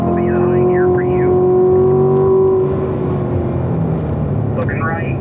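A Corvette on the Spring Mountain race track gives a loud, steady engine drone that drops in pitch as the driver shifts gears, with tire and wind noise underneath, heard from inside the car.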